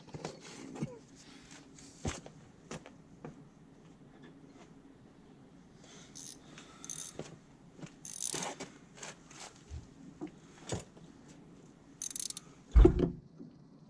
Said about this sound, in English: Oh, of course, ratchet wrench won't fit.